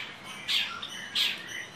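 Two short, bright chirps from caged songbirds at a bird-breeding farm sound about half a second apart over a quiet background hiss.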